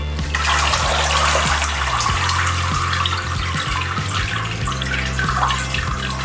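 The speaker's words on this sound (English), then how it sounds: "Now we're going to drain our lettuce of water." Water drains and splashes steadily from washed lettuce leaves into a basin, close and continuous, over a low mechanical hum.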